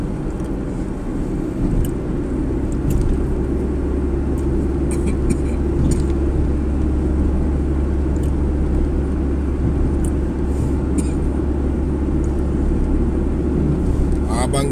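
A low, continuous rumble of rush-hour road traffic in the Klang Valley, Malaysia, with cars passing at a steady pace. A person talks over it.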